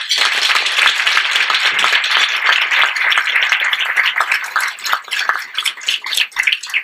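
Steady applause from a seminar audience in Calgary, dense clapping of many hands sustained throughout and fairly loud, welcoming a speaker with no talk over it.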